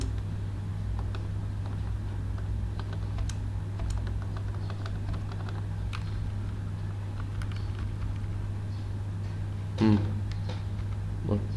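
Keyboard typing on a computer while editing text in Camtasia screen-recording software, soft scattered key clicks over a steady low hum, with a brief louder click burst near the end and no talking.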